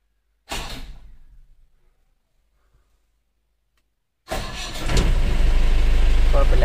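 A car's starter cranks briefly and fades, then after a few seconds of silence the engine catches on a cold start after sitting unused for a week and settles into a loud, steady idle.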